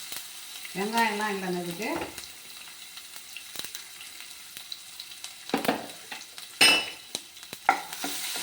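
Green chilli and ginger fry in a pan for a rice and lentil upma, giving a soft sizzle with sporadic stirring clinks and scrapes. Someone speaks briefly near the start.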